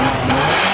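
Audi S4 stage 3 car engine revving hard with its exhaust valves opened, a loud, dense, steady roar held close for under a second.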